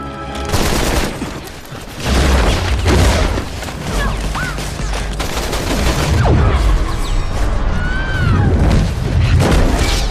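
Gunfire in a Resident Evil 6 cutscene: loud bursts of automatic fire and booming shots, with a brief pause before a second, longer volley, dense and close, mixed with crashing impacts.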